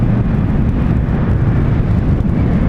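A Kawasaki Vulcan S custom motorcycle accelerates in a continuous, dense roar of engine and wind, loud and steady throughout with no voices.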